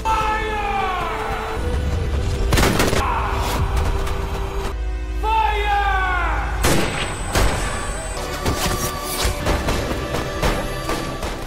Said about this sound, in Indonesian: Robert memerintahkan mereka untuk menembak semua aktivis itu hingga tidak tersisa